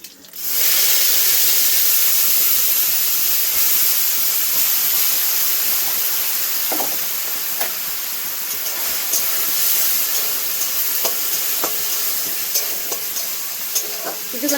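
A ground ginger spice paste fries in a little mustard oil for a fish curry, giving a loud, continuous hissing sizzle close by that holds steady throughout, with faint crackles.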